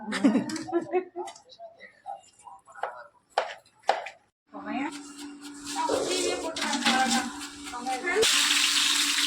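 Water is poured into soaked rice for biryani in a home kitchen. Talking and light kitchen clatter come first, then a steady, close pour gushes for the last four seconds and grows louder toward the end.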